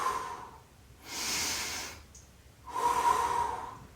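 Slow, deep breaths taken during a guided upper-back and shoulder stretch, heard as a soft hissing exhale followed by a pause and then a second airy breath, close and clear with no talking.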